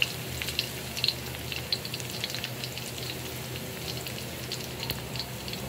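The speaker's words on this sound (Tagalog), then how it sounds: "Gisa na tayo." Chopped garlic sautéing in a hot pan as the base for chicken caldereta, giving a soft, steady sizzle with faint crackles and occasional light clinks, moderately quiet with no talking.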